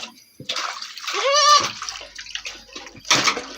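A goat is dipped into a tub of medicated water, giving bursts of splashing and sloshing that swell and fade, with a bleating cry in the middle.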